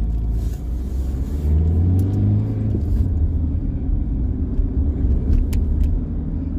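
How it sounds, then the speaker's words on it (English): Cars pass on a road in a heavy, continuous low rumble of engines and tires, loud and close, with a few faint higher clinks scattered through. "But the cars are coming up."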